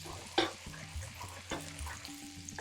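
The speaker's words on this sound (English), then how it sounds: "So let's soften those onions nice and slow." Onions soften slowly in a pan on a hot burner, giving a gentle, continuous sizzle with a few sharp clicks and scrapes of stirring up close.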